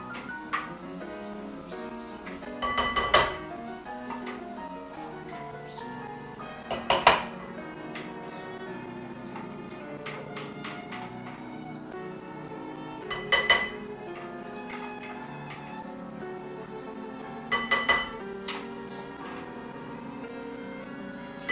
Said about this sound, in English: We will transfer our pumpkin seed